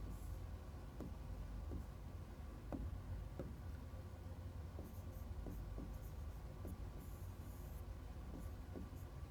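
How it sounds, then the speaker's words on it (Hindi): Someone writes a word on a classroom board, and the chalk or marker makes a series of faint, separate short strokes and taps. A constant low room hum sits underneath. "पॉजिटिव की जगह मैं यहां पे पक्ष लिख देता हूं"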